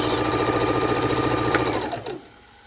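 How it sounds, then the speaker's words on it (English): A sewing machine runs fast, stitching quilt binding with right sides together in a rapid even rattle, close and alone, then slows and stops near the end. "continue sewing right sides together"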